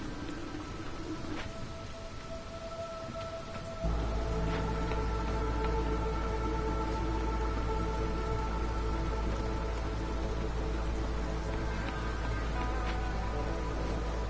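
Rain storm in the Against the Storm video game, a steady wash of rain on surfaces that thickens and grows louder partway through, with faint tonal game chimes scattered over it and no talk.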